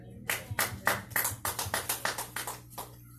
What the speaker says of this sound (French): applaudissons pour Jésus une fois de plus